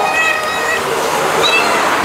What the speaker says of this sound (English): I got a cat following me around.